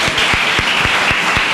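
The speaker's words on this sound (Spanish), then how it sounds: "Pues un aplauso también para esos profesores." Applause for teachers on a Spanish radio show, a short steady wash of clapping with a few rhythmic hand claps standing out, likely a studio sound effect, loud and close.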